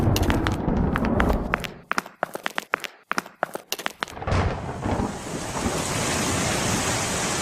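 Rain and thunder: a burst of sharp, crackling impacts gives way to a steady, dense downpour hiss that continues to the end, with no one speaking.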